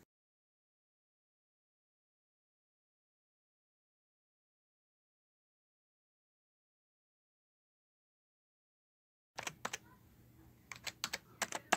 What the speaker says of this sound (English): Now let's let you hear me type on it.